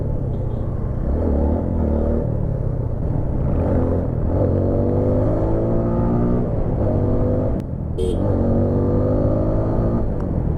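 A 2018 TVS Apache RTR 160 4V motorcycle rides along under load, its engine note climbing repeatedly through the gears with rising revs and a brief dip between pulls, loud and close.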